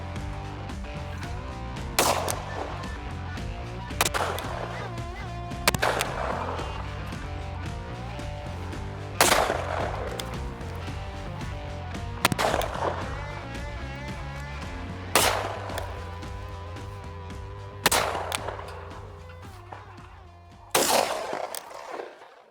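A Krieghoff K80 Parcours X over-and-under shotgun with 32-inch barrels fires about eight loud, sharp shots spaced a couple of seconds apart, each ringing out briefly over a steady background hum.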